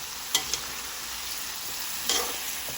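Chopsuey being stir-fried in a pan as a mixed sauce of soy sauce, fish sauce and oyster sauce goes in, giving a steady close sizzle with a couple of sharp spoon-stirring clatters.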